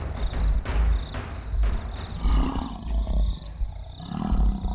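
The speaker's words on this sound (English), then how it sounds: "The thundering sound of a lion defending its territory can be heard from 8 kilometers away." A lion roars in a repeated sequence of deep, powerful grunting calls, each pulse loud and close, rolling on in a steady rhythm with no talk over it.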